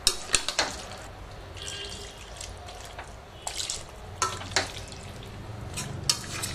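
Ginger garlic paste mixed with water being poured over chicken pieces in a pot, giving soft splashing and stirring clatter with a few sharp knocks, close by and moderately quiet, no talking.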